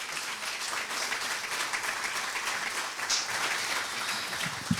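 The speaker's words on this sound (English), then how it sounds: "Can we just give a round of applause for these two candidates?" Applause from a debate audience for two leadership candidates, Charlottetown, steady and dense throughout at moderate distance, with a few brief sharper claps near the end and no talking.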